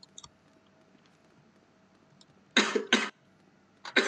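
Sharp coughs in a Roblox Mimic horror game, a tight cluster of two or three harsh bursts followed by another after a pause, loud against a quiet background with faint clicks.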